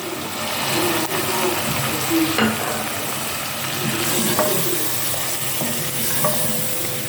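Steady sizzling and frying of a tomato and green chili paste in a pan for chicken karahi, with occasional stirring scrapes, close and continuous throughout.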